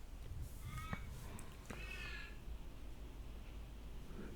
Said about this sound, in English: the crows are loud here today